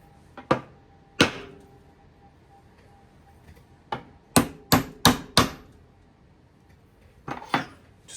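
Sharp metallic hammer taps strike old flea market pliers, arriving as scattered single knocks and then a quick run of four close, ringing blows followed by a few more, all loud and near in a quiet room.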